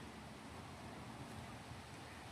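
The Stillaguamish River runs swollen after rains with a steady, powerful rushing roar. Wind buffets the microphone over the constant flow, and no one speaks.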